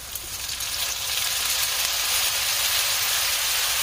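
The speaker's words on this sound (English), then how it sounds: "once you get the butter melted, go ahead and add 3 tablespoons of vermouth." Vermouth hits melted butter in a hot pan and sets off a loud, steady sizzle. The dense frying hiss holds evenly throughout with no voices.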